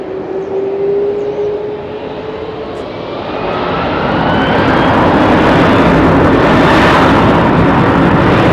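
Ex-KLM Boeing 747 Combi freighter with GE CF6 engines at Heathrow: a loud, steady jet roar that swells over several seconds, with a whining engine tone sliding through it, close by and alone.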